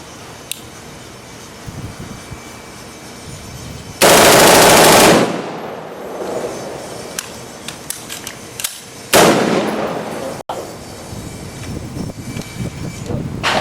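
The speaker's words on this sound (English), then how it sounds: "that young man was using the full auto version of the AR-15" A full-auto AR-15 rifle fires two loud, rapid bursts separated by several seconds, each cracking sharply and then echoing away into quieter ambience.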